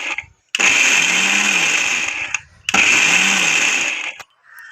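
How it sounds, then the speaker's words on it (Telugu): A kitchen mixer grinder whirs loudly on fresh coconut pieces in two bursts of about two seconds each, cut by short pauses, with a high motor whine over a rough grinding churn. "వీటిని అయితే మిక్సీకి వేస్తున్నాను"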